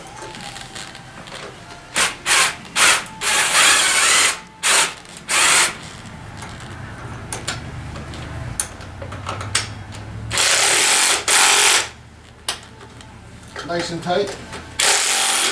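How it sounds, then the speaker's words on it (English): A ratchet tightens bolts while a Tao Tao ATM50A scooter is assembled, bursts of rapid clicking broken by pauses, close and fairly loud, with a person talking between them. "I'm using a ratchet"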